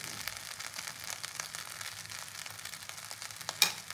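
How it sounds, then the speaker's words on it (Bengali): Ghee hits hot, fully cooked basanti pulao in a pan, giving a faint, steady sizzle with small crackles and a brief sharp clink near the end. "এবারে ওপর থেকে একটু ঘি দেবো"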